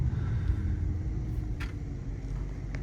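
A Dodge Charger R/T with a 3.0 Whipple supercharger idles hot after a drive, giving a steady low rumble close by with a couple of faint clicks, and no talking.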